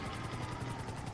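A helicopter in a video game gives off a faint, steady rotor whir with a regular chopping pulse in the background.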